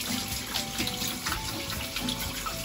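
Water runs steadily from a tap into a sink while a face is rinsed during a nighttime skincare routine, a continuous close splashing flow with no talk.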